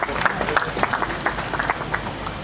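Applause at a pharmaceutical plant commissioning ceremony in Ghana, moderate dense clapping from a seated audience, steady and fairly close, mixed with a voice over the room.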